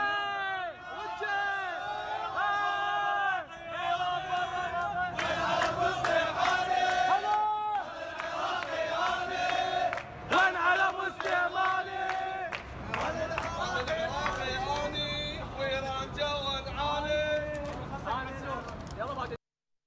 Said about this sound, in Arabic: وسط ترديد هتافات ضد قاسم سليماني والنظام في طهران.